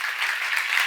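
A church congregation at a seminar claps in unison, a brief, dense burst of many hands.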